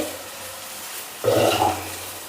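A rava carrot roti drops into hot oil, and a sudden burst of splattering and sizzling follows a quieter background for about half a second, then fades.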